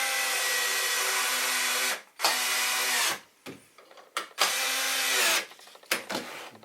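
A power drill driving screws into the ends of a scrap wood toolbox, heard as close, loud whining bursts of a few seconds each, separated by short pauses and stop-start trigger pulls.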